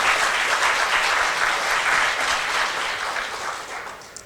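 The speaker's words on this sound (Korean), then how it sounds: "열정적인 강의해 주신 김병준 교수님께 다시 한번 큰 박수 부탁드립니다" Large audience at a local council academy session in Daegu applauding a professor after his lecture, a dense, sustained wash of clapping that fades gradually toward the end.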